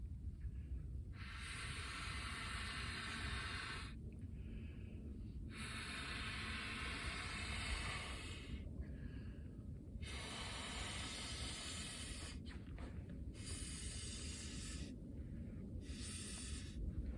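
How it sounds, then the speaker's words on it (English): Someone blows air by mouth into an inflatable camping pillow in long, repeated breathy puffs with short pauses between them, soft and close, with no talking. "Okay, so let's blow this up."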